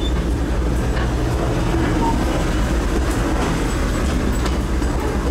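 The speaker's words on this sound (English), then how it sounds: "Just watching the train pass by." A steady rumbling roar of a small amusement park train rolling past nearby, continuous and even, with faint rattling over the track.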